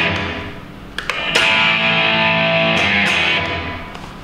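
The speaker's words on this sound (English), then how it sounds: "First of all, we have a room reverb." Guitar played through a Blackstar ID series amplifier with a room reverb effect: sustained distorted chords and single strikes ringing out with a short, dense ambient tail, loud and alone without talk.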